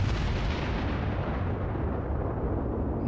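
Main guns of the Japanese battleship Amagi fire in a World of Warships naval battle, a loud, deep rumbling blast that rolls on and slowly fades, with no voices over it.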